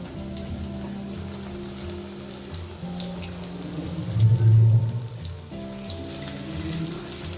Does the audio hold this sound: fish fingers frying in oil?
yes